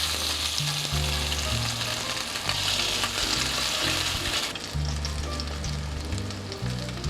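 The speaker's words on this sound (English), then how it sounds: "once the patties have been on the pan for several minutes, you gotta turn to the other side" Pink salmon cakes fry in a pan with a continuous, close sizzle over a low musical bed.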